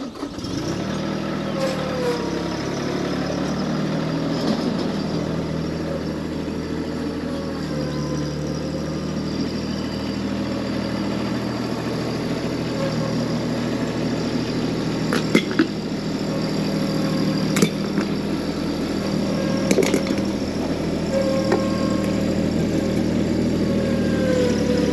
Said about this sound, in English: So we're going to run these over with the tractor just to see which one holds up.